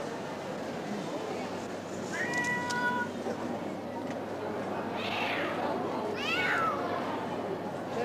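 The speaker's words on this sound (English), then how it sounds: "The cat's not happy." An unhappy cat gives a few drawn-out meows outdoors over a steady broadband background noise, with people talking nearby.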